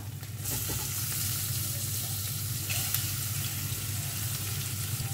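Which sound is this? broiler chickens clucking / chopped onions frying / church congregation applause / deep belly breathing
chopped onions frying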